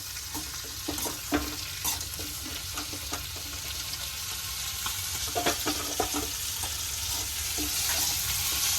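Onions fry steadily in a pan for paneer, a continuous close sizzle with occasional soft stirring scrapes and clicks, no voices over it.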